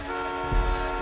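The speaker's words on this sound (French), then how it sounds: "Un petit coup de klaxon." A short car horn toot in the video game GTA V, one brief honk over a steady engine hum.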